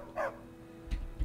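A dog in the video game Skyrim barks twice, near and moderately loud, with short sharp yelps separated by a brief pause over quiet game ambience.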